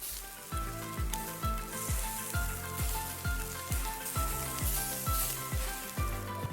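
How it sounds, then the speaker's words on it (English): Butter melts in a pan for an omelette, giving a steady soft sizzling hiss under a rhythmic, thumping music beat. "I'm just going to put a little bit of knob of butter in there just to melt"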